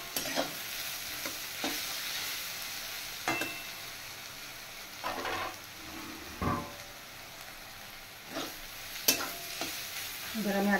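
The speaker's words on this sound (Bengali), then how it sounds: "এবার আমি আরেকটু ফ্রাই করে নেব।" Grated garlic frying in a pan alongside already-fried onions, a steady soft sizzle broken by repeated clanks and scrapes of a spoon stirring, close and without speech.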